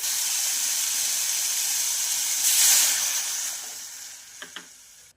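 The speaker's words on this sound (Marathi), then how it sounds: "ज्या वाटीने आपण रवा घेतलेला आहे त्याच वाटीने यामध्ये दोन वाटी पाणी घालूया" Water poured into hot semolina with pineapple hisses and sizzles loudly, the steam surging at its peak and then fading, with a couple of light clinks near the end.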